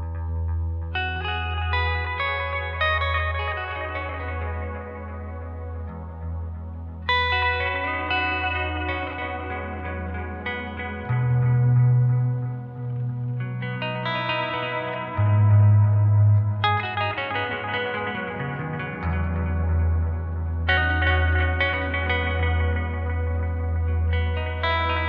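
Electric guitar run through a delay pedal with micro pitch, blooming into a lush ambient wash of shimmering, echoing chords that swell and overlap, with a deep sustained low note underneath throughout.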